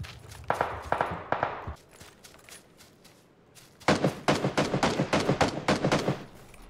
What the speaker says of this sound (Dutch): ik hoorde net echt super dichtbij schoten